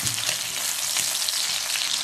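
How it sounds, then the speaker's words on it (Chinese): Pork slices stir-frying in hot oil in a wok, giving a dense, loud, continuous crackling sizzle close up over a short stretch, with no voices. "锅中加适量的油，下入肉片煸炒，将肉片炒香炒出油"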